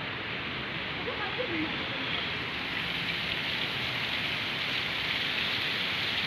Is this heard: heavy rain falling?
yes